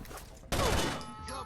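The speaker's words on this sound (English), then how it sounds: "So we're gonna start things out with a bang by throwing a grenade" Rainbow Six: Vegas 2 gameplay: a frag grenade blast bursts in suddenly and loudly, followed by a rolling, ringing tail of gunfire and debris that slowly fades.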